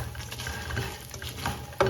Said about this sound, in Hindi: उसी ऑयल उसी घी में हमने मखाने भी शामिल कर लेने और इनको भी हमने फ्राई कर लेना।